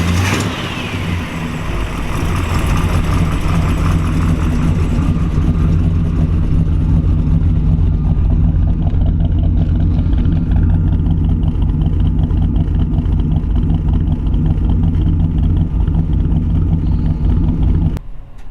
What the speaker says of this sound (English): we'll give you a little clip here of the engine running